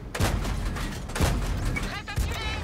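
Artillery shells landing in World of Tanks, three heavy booming impacts at roughly one-second intervals against a dense rumbling battle background, with faint voices underneath.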